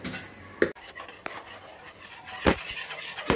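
A whisk works gram flour batter in a pot for Mysore pak, giving quick clinks and scraping taps against the metal, with a few sharper knocks spread across a short stretch of steady stirring.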